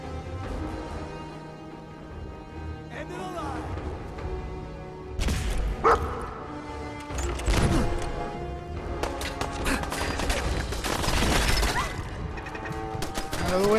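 A dog barking in Fallout 4 amid loud game combat, with sharp impacts and bursts of gunfire, the barks short and intermittent against a busy background.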